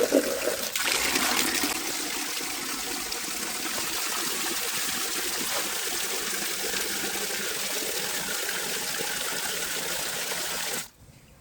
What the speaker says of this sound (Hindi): तो यहाँ से हम 2 लीटर लेंगे और इसे पूरा बाल्टी को भर लेंगे। लगभग 20 लीटर पानी इसमें आ जाएगा।